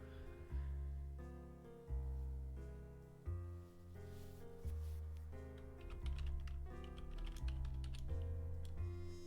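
Quick keystrokes on a computer keyboard, faint and clicking lightly over soft sustained background music, with no talking.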